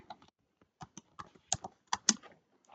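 Computer keyboard typing in a quiet room, a sparse run of distinct close key clicks, some single and some in quick pairs, with no talking.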